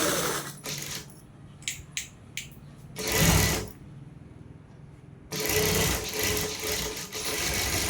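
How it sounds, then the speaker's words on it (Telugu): A sewing machine stitching cloth in two bursts of close, busy mechanical whirring, separated by quieter handling clicks and taps, with no speech. "ఇప్పుడు నేను ఏ విధంగా అయితే స్టిచ్ చేస్తున్నానో అలానే స్టిచ్ చేసుకోండి"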